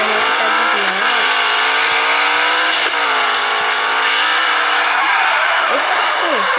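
A truck in a racing video game, Ultimate Car Driving Classics, drives and revs hard, its loud engine drone rising and falling in pitch with gear changes and some tire squeal, while a voice talks faintly underneath.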